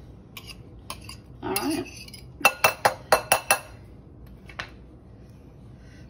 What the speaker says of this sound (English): I'm gonna fish out this little bowl here.